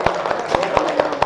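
A classroom claps for a presenting student group, with sharp, evenly spaced claps in a quick steady rhythm and a voice talking over them.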